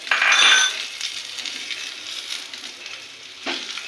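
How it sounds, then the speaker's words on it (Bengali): Fish pieces drop into hot oil in a pan while red amaranth greens cook, setting off a sharp hiss that quickly settles into a steady, close sizzle, with a clink near the end. "আমি এখন আমার মাছগুলো দিয়ে দেব।"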